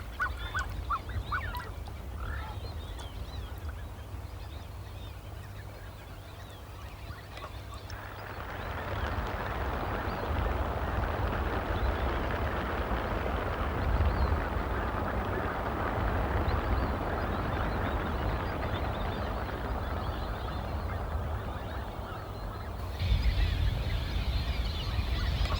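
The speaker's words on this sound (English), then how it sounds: "slightly deeper water are thousands of black-necked swans, native to the southern cone and South Brazil" Thousands of black-necked swans in Uruguayan marshland keep up a dense, continuous chorus of honking calls that swells after the first few seconds and carries on without a pause.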